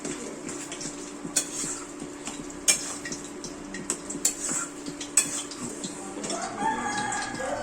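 Colocasia greens being stirred in a cooking pan make intermittent close clinks and scrapes of a utensil against the metal, while a rooster crows in the background toward the end.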